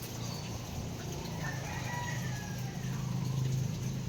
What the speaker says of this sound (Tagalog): Manok po.